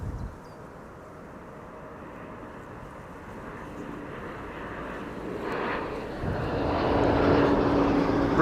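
An Airbus A340 airliner passes close by at Amsterdam Schiphol, a broad jet roar that swells steadily over several seconds and grows loudest and brightest toward the end, with no voices.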